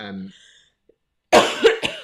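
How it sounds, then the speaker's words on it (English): A harsh cough from someone with lingering effects of COVID bursts out after a brief silence, followed by a couple of smaller coughs in quick succession, close and loud. "pause for cough"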